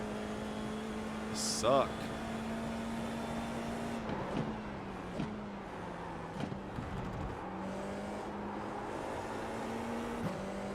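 FIA F4 race car lapping Laguna Seca, its engine holding a steady drone from the cockpit with small pitch shifts through corners and a few sharp bumps and clicks, while a voice speaks briefly over it.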